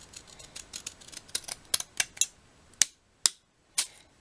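Scissors snipping through paper while shaping a paper gingerbread man embellishment, a string of crisp close cuts that thin out into a few sharp, separate snips toward the end.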